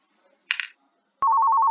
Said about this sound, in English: now you can hear the ringing coming in through my computer here